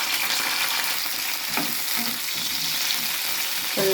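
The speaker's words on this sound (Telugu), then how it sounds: "కొంచెం దోరగా వేయించుకుందాం" Green chilies frying in oil in a pan for a leafy greens chutney: a dense, loud, continuous sizzle up close, with a few faint stirring taps and no speech.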